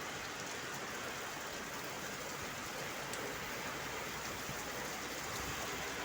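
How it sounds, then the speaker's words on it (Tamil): Heavy rain pours down in Dubai during a flood, a dense, unbroken hiss of falling water that stays even and continuous throughout, fairly distant and with no voices. "துபாயிலே நல்ல மழை பெய்யுது"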